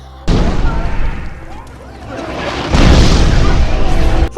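Gunfire and explosions from a war battle scene in the Thai horror comedy film Pee Mak: loud, continuous booming and bursts that swell even heavier about two-thirds through.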